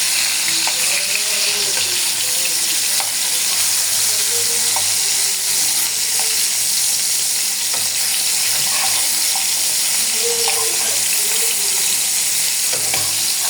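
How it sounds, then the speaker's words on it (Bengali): Tomatoes fry and sizzle steadily in a pan for a tomato bharta, with scraping and stirring noises as the pieces are turned over, plus some faint water and clatter in the background. No one speaks. "এখন টমেটোগুলো উল্টিয়ে দেবো ভালো করে।"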